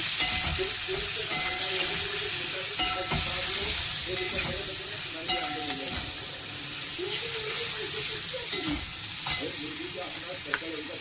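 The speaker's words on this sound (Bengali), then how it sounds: "একটু ভেজে নেব।" Food fries in a pan with a steady, dense sizzle throughout, broken by scraping stirs of a spoon; close and continuous with no talking.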